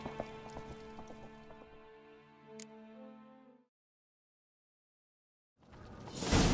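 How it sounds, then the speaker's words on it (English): A horse's hooves clip-clop rhythmically at a gallop in the video game Witcher 3, steady for a few seconds before cutting to silence and then a burst of noisy game sound. "Grab a horse, we'll chase him down."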